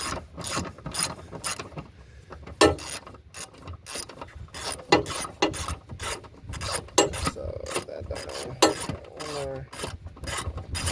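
Rapid rhythmic clicking of a ratchet with a socket and extension working on a coilover, in quick bursts of ticks with short pauses and some metallic scraping between strokes.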